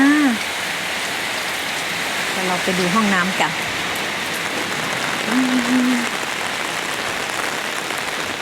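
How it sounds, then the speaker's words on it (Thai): Steady rain pours down in a constant hiss at a campsite at Phu Thap Boek, Thailand, with a person speaking briefly over it near the start and again midway. "ตอนนี้ดูฝนไปก่อน"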